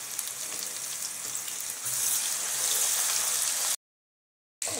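Onion with ginger garlic paste frying in a pan for a suwanjna chicken curry, a steady close sizzle and crackle that swells louder partway through, then cuts to silence briefly before resuming.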